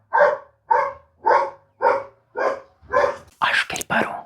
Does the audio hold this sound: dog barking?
yes